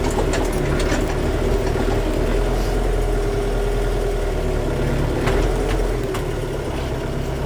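A Scout TY404 mini tractor drones steadily in first gear at close range, a continuous low rumble with faint rattles and no voices.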